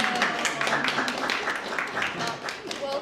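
Dense, steady applause from an audience honoring arts committee members at a community panel discussion in Milwaukie, running loud throughout with voices mixed in.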